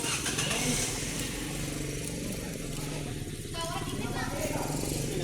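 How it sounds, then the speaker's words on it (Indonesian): A Toyota Sienta's engine runs at a steady idle during a periodic service, a low continuous hum with a faint mechanical buzz, while a person talks nearby over it. "Lalu ketika mesin dihidupkan,"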